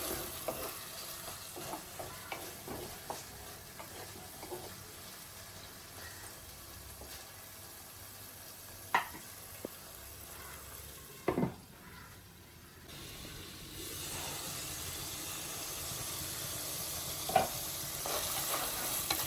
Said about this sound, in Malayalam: തക്കാളി സവോളയും കൂടെ ഒന്ന് വാടി വെത്തേ അല്ലേ വാടിക്കൊണ്ടിരിക്കുന്നു